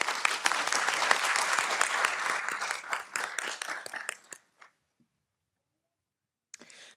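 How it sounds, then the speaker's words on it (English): An audience at a civic diversity event applauds, a dense wash of clapping hands that thins and stops abruptly, followed by silence and a brief final burst of claps. "Can we please just give another hand of applause for that?"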